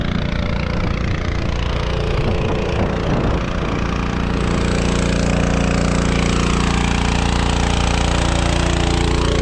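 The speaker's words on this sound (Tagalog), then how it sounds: "Tayo po ay nagagrass cutter." A handheld grass cutter engine runs loud and close with a constant, buzzing drone while cutting around papaya plants on a farm, never pausing for the whole stretch.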